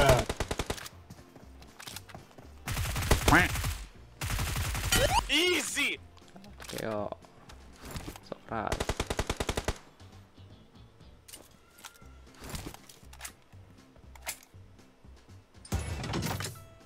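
Gunfire in a battle-royale shooter match: several separate bursts of rapid automatic fire over quiet game ambience, some loud and near, others fainter and farther off.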